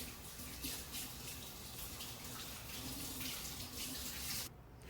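Tap water runs steadily from a faucet as callaloo is washed, a continuous hiss and gush that stops abruptly near the end.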